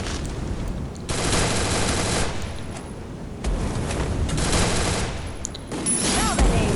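Rapid bursts of automatic gunfire from the video game Free Fire, including an MP40, come in loud sustained volleys separated by short pauses, with a faint voice underneath.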